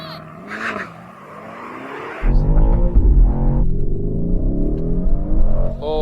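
Lamborghini Urus and Audi SQ8 SUVs in a drag race, with a loud engine roar swelling midway and holding steady as the cars accelerate, while excited voices talk over it.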